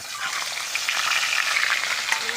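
Salted fish heads frying in hot oil in a wok, a steady, close, crackling sizzle that holds evenly from start to finish with small spits and pops, no voices.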